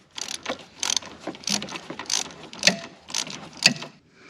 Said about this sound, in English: And now I'm finished getting it out with a ratcheting wrench.